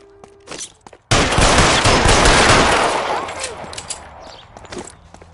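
A sudden, loud burst of rapid gunfire in the video game L.A. Noire erupts after a brief quiet moment and rattles on for about two seconds before tapering into scattered echoes and softer noise.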